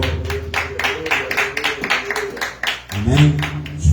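A church congregation clapping hands in praise during a service, sharp rhythmic claps in a steady beat, loud and close, with a voice talking over the clapping.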